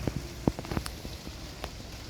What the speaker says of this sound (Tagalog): ngayon ay mainit ang panahon pero naambon-ambon pa rin